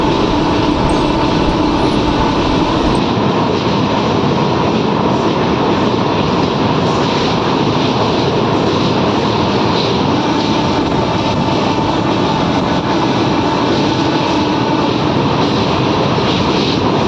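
A Valsad–Dahod Intercity Express runs at speed near the Tapi river, giving a loud, steady, close-up roar of wheels and carriages that rumbles without a break.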